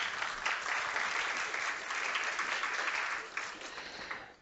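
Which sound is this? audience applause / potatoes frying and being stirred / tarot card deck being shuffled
audience applause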